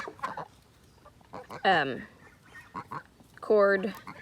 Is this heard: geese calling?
yes